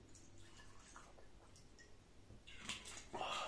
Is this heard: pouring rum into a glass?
yes